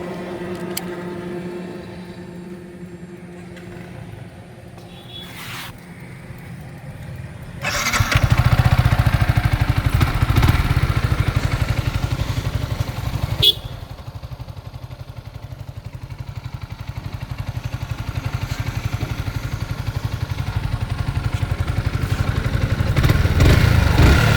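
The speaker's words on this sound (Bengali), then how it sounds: "বাইকটি আমাদের স্টার্ট হয়ে গেছে তো এবার অবশেষে আমাদের গাড়িটা রেডি হয়ে গেছে এবার আপনাদেরকে সাউন্ড শোনাবো" A Yamaha R15 V4 motorcycle engine fires up and keeps running after a restart, settling into a loud, steady close-range drone that swells slightly toward the end, with no voices over it.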